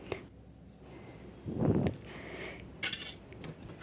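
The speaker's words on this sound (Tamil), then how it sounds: "இப்போ நான் இந்த வெந்நீரை கொஞ்சம் கொஞ்சமாக இதில் நான் சேர்த்து கலந்து விட்டுக்கிறேன்" Hot water is poured into idiyappam rice flour in a wide bowl and mixed in, giving soft close scraping and clinks of a spoon against the bowl, with a brief louder splash and stirring, all at low level with no talking.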